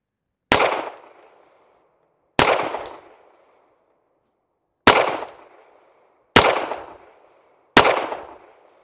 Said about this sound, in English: Boy, definitely shot this Federal a bit better.